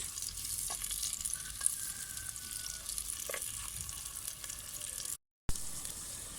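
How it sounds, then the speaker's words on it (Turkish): Onions fry in oil inside a clay pot, giving a continuous close sizzle with occasional stirring knocks. The sound runs steadily, breaks off briefly near the end, then resumes. "Yağımızı kullandık, döktük güvecimize soğanımızı pembeleşene kadar kavuruyoruz."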